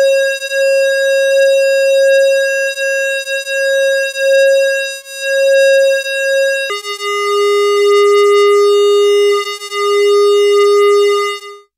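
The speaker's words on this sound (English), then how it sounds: "you would be able to hear more obvious changes to the pitch of oscillator 1" ARP Odyssey synthesizer oscillator held as a steady pure tone, then jumping abruptly to a lower pitch partway through and sustaining, with slight wavering modulation; loud and alone, no voices.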